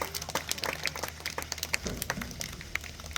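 Audience clapping at a safari park animal presentation for a prehensile-tailed animal, scattered and uneven claps with sharp individual hits, moderately near, continuing for a few seconds.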